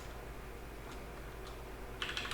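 Keys clatter on a computer keyboard in a short burst of a few quick taps near the end, after a stretch of quiet room hum.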